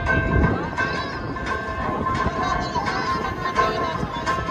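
A theme park train at Dollywood rumbles along the rails with a steady rolling drone, metallic squeals and whines, and a faint murmur of passengers' voices underneath.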